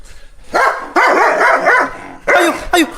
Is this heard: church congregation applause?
no